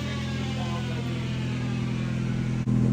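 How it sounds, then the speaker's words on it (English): A Honda CRX engine idles steadily close by, with a smooth, even hum and a brief dip near the end. "We finally have the idle motor working too."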